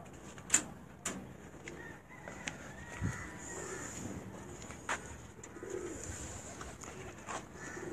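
Pigeons on a rooftop breeder loft coo and call softly at a distance, with a few sharp clicks and flutters scattered over a quiet, airy background.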